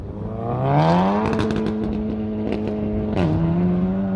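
A car at a roadside car show on the way back from Goodwood roars past close by, its engine note rising in pitch, holding steady, then dropping sharply as it passes, loud and alone.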